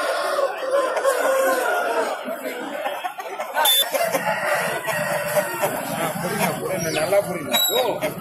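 Chickens cluck and a rooster crows amid a busy outdoor market, with people talking over the birds.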